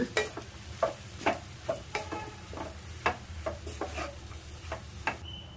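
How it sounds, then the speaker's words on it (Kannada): Cooked rice is stirred into garlic rice in a pan, a series of close scraping, clattering strokes in an uneven rhythm over a faint sizzle, with no talking. "ಈಗ ಅನ್ನ ಹಾಕ್ಕೊಂಬಿಡೋಣ. ಈಗ ಚೆನ್ನಾಗೆ ಮಿಕ್ಸ್ ಮಾಡ್ಕೊಳ್ಳೋಣ."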